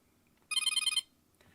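A Motorola Moto Tag tracker rings: a bright, rapid chirping tone held close to the microphone, loud for about half a second and then cut off, in an otherwise quiet room.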